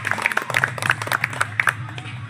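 An audience claps at a district YouTubers' gathering and festival in Nuapada, a quick run of close, crisp hand claps over a low murmur of crowd noise.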